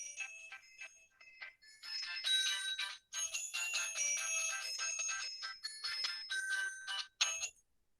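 A mobile phone ringtone plays a bright, chiming electronic melody, loud and continuous for several seconds before cutting off.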